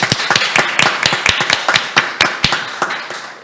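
A small seminar audience at a Korean policy forum on children's recovery after COVID-19 gives sparse applause to welcome a discussant, with distinct individual claps rather than a dense wash, close and fairly loud.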